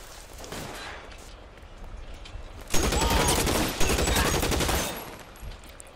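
Gunfire erupts in a police shootout in the video game L.A. Noire, with rapid overlapping shots starting midway, loud and dense for about two seconds before tapering, over a steady background of game noise.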